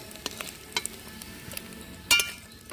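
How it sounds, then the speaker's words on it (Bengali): Rohu fish roe frying in a pan until lightly reddened and crumbly, with a steady close sizzle broken by several sharp spatula stirs and scrapes, the loudest burst coming near the end. "দেখো ডিমগুলো কত সুন্দর করে ভেজে নিয়েছি হালকা লাল লাল হয়েছে"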